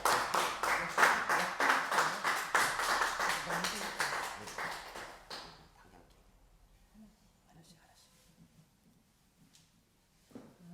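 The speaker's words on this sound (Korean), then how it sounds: "나오실 때 큰 박수로 환영하도록 하겠습니다" Church congregation applauding to welcome a speaker to a Sunday service sermon, rhythmic clapping for about five seconds that then stops, leaving a quiet room with faint movement.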